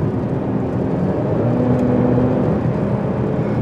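A 2024 Mercedes GLC 300 Coupe climbs a mountain grade, its engine holding a steady, smooth hum with road noise, close and continuous throughout.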